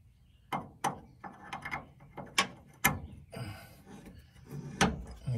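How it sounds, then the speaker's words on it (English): A bolt being unscrewed on a 2002-2008 Dodge Ram, with a series of close metallic ratchet clicks and clunks in irregular bursts and some handling noise, no talking. "you just gotta keep screwing until you get it screwed out"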